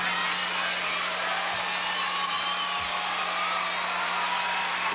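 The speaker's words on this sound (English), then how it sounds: "The crowd is reacting to other activities in the arena." A large arena crowd at a 1988 women's gymnastics meet murmurs and cheers in a steady, distant wash of voices with faint whoops. A low constant hum runs underneath.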